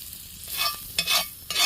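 Food sizzling on a hot surface over a campfire as a chunk is dropped on with a spatula, short bright hissing bursts coming in quick succession, close and fairly loud.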